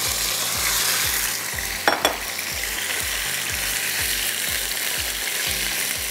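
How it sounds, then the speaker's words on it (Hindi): Chicken thighs searing in hot cooking oil give a loud, steady sizzle and crackle throughout, with a brief clatter around the middle and a low, regular thumping beneath. "इसको आपने पहले इसमें डाल के अच्छा सा सीयर कर देना है"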